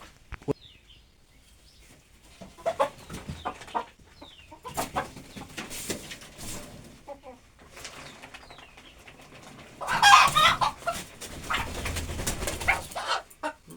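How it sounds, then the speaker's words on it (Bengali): Country roosters kept in a rural Bengali home cluck and call in scattered bursts, with bird sounds fairly close and growing busier and louder toward the end, with no talk over them. "ঘর ওই যে মোরগ দুটো মানুষ দেখে লুকাছে"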